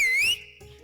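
A person gives one short, clear whistle that glides upward and then cuts off, followed by quiet room sound.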